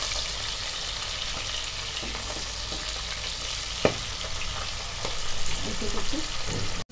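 Pomfret fish lightly frying in a pan, an even, moderate hiss of oil throughout, with a sharp tap partway and the sizzle swelling slightly near the end.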